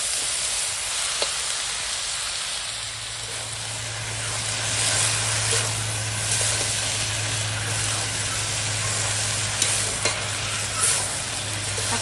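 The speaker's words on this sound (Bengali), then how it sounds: "এবার সব একসঙ্গে কষাবো।" Bhetki fish bones and vegetables, papaya among them, sauté and stir together in a pan with no water added, giving a steady sizzling hiss with scraping stirs throughout, close and continuous with no talk.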